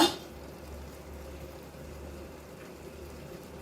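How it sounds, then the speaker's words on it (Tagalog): A soft, steady bubbling hiss of dinengdeng, an Ilocano vegetable broth, simmering in a covered pot, faint and continuous with a low rumble underneath. "Kumukulo na siya."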